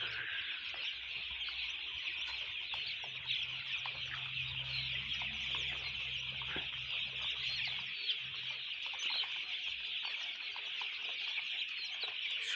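Chickens cluck steadily while feeding on grain inside an enclosure, a dense continuous chorus of mid-high calls over twelve seconds with a low background hum in the first half.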